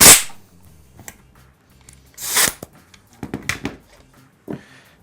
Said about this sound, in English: if I shoot a pin through here, you can hardly see them